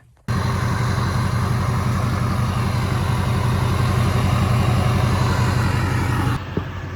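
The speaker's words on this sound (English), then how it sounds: "I'm gonna start the truck up and we'll see what it sounds like." A steady, close idle rumbles from an LLY Duramax diesel truck engine with its exhaust resonator deleted. The engine starts almost at once, holds an even, loud idle, then drops sharply near the end.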